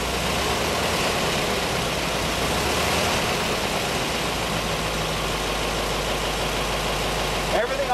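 A 1917 Cadillac convertible's engine, rebuilt and otherwise original car, runs at a steady idle with a constant low mechanical drone close to the microphone, unchanging throughout with a slight bump at the end.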